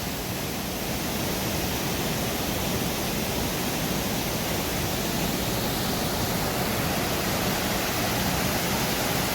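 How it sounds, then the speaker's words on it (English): Twin indoor waterfalls at the Gaylord Opryland hotel pour with a loud, dense, unbroken rushing roar that stays constant throughout, with no talking over it. "there's the two waterfalls right here in this area."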